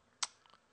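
A computer mouse double-clicked while installing software, one sharp click followed by a quick pair of faint clicks, close and isolated in a quiet room.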